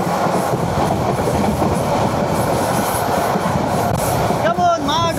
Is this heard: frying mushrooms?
no